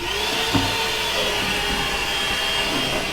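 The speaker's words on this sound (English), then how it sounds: "I'm gonna try and vacuum it all out." A vacuum cleaner drones steadily and loudly while sucking sand out of an old car's gas tank, with a constant whine and no talking over it.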